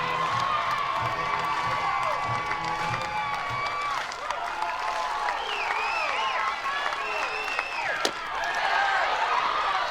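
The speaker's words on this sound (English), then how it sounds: "the crowd will come to their feet, those in orange and blue" Softball crowd in Gainesville, fans in orange and blue rising to their feet, with sustained cheering, clapping and shouting throughout, a commentator's voice under the noise.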